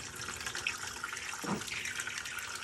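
Water runs through an opened valve on a home radiant heating boiler, a faint steady rushing flow with a brief gurgling surge midway, no voices over it.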